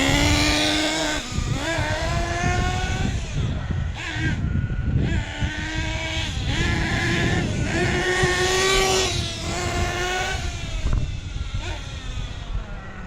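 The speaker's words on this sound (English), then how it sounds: "He's running different now. Even on these full throttle bursts." Losi 8T nitro RC truck engine screaming through repeated full-throttle bursts during break-in, its high pitch rising and falling between revs, loud and close with no talk.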